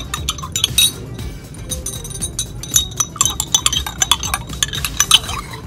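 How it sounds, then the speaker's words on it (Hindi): A spoon clinks and rattles against a glass while a drink is stirred, rapid bright metallic taps in uneven bursts, close and clear, with no talking. "अब जो हमने इसे अच्छी तरीके से मिक्स करना है"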